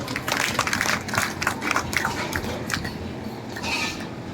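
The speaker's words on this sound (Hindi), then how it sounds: "आपके लिए जोरदार तालियां" Audience applause at a rally in India, a steady crowd clatter of many hands clapping that stays loud for several seconds before easing slightly.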